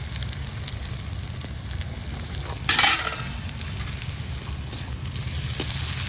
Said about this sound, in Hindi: अब तलेंगे हम प्याज।